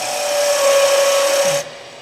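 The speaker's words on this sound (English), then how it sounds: "I'm taking a deeper cut and trying to get rid of wood, and it's putting a lot of force on the bevel" A skew chisel taking a deep, forceful cut in wood on a lathe, giving a steady loud scraping whine with a sustained tone that drops off sharply near the end.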